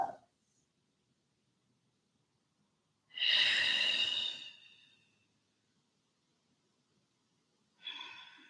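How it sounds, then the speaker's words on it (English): Two deep breaths during a yoga flow: a long, loud, breathy exhale lasting over a second, then a shorter one near the end, with near-silence between. "Two more breaths."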